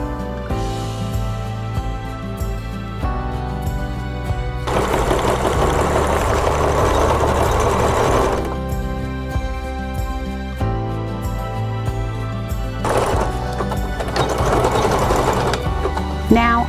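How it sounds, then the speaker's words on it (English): Sewing machine running zigzag stitches along repaired seams on work coveralls, a steady mechanical whir in continuous bursts that speed up and slow down, with short pauses between runs and no talking. "Now I am going to zigzag both of these seams I just did."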